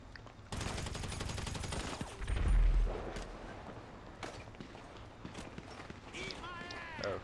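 Sustained rattling gunfire in GTA Online during a Pacific Standard heist, a fast continuous burst followed by a heavy thump and scattered later shots, with voices talking over it.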